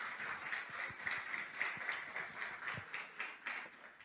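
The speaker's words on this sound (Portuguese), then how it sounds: "Você pode aplaudir o Senhor?" A church congregation applauding together, a steady wash of many hands clapping at moderate distance, continuous and fairly even throughout.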